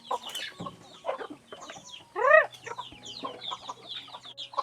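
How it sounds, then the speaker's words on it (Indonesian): Chickens cluck and chatter near a coop in a rural yard, a busy run of short calls with a louder, rising squawk partway through and no voices. "Jadi sekarang ayamnya mau dimasukin ke kandang"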